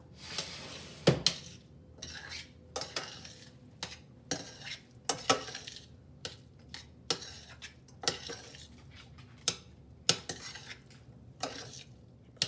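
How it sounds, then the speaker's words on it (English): Utensils scrape and clack against a bowl or pot while bacon pieces are stirred into a stuffed cabbage casserole mixture, with repeated sharp clinks at an irregular rhythm, fairly close, and no talking. "And now we're just going to blend this together well."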